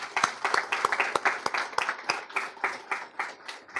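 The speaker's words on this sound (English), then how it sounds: "Let's give the parents a round of applause" A small group claps for the parents at a police Explorers team recognition ceremony, producing distinct, fairly close individual claps in a loose rhythm that thin out toward the end.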